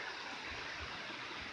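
Waterfall in Maine, a roughly 60 to 70-foot upper falls dropping into a creek, gives a steady, dense rushing roar close by, even and unbroken with no voices.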